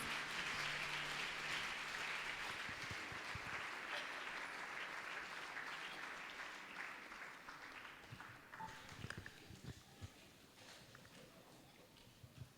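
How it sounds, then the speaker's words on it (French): A congregation at a bilingual Sunday church service applauds to welcome a translator, loud dense clapping at first that slowly fades into scattered claps, shuffling and faint voices. "Et nous allons accueillir avec acclamation la traductrice."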